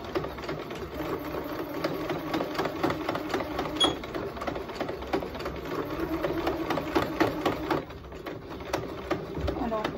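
Sewing machine running steadily as it topstitches through thick layers of fabric, a dense continuous mechanical stitching whir with slight pauses, close and moderately loud, with a voice speaking over it.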